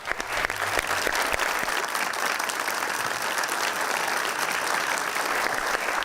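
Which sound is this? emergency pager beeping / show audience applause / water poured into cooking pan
show audience applause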